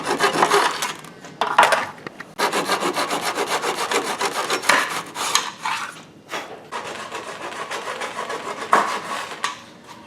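Replica T-track parts for a Darth Vader lightsaber build being trimmed down, loud close rasping strokes of filing or sawing in steady rhythmic bursts with brief pauses.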